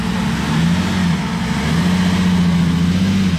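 A Lamborghini Espada's engine runs steadily on a street in Monaco, holding a loud, close, continuous drone with a faint rise in revs and no talk over it.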